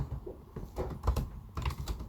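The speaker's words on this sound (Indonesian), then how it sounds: "Di sini kita ketik nama game yang mau kita buat" Keys tapped on a computer keyboard while entering a game name in RPG Maker MV, a loose run of soft clicks over a low, muffled background rumble.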